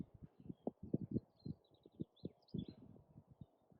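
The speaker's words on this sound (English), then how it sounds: "all you really hear is birds if you're quiet." Faint high bird chirps and twitters scattered over steady low rumbling thuds and rustling in a quiet rural setting at Lake Maggiore, Italy.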